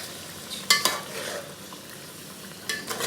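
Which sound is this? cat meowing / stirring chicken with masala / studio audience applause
stirring chicken with masala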